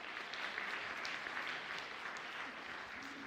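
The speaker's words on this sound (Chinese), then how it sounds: "我们再次拍手欢迎" A church congregation claps steadily to welcome new members at an Easter praise service, a dense, even wash of applause lasting throughout with no clear voices on top.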